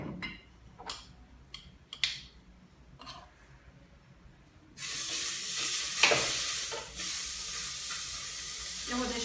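Beef searing in a very hot pan with a thin drizzle of oil: a few quiet clinks and stirs, then a loud, steady broadband sizzle that starts abruptly partway through and continues, close and without speech.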